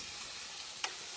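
Chicken sizzles steadily on a George Foreman grill, a dense even frying hiss with one small pop near the end, close and fairly quiet.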